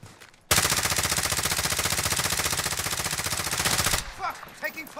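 Sustained automatic gunfire in a multiplayer shooter video game, a loud, rapid continuous burst lasting several seconds before cutting off, followed by faint scattered game sounds.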